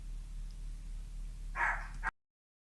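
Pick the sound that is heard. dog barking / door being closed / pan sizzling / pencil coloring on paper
dog barking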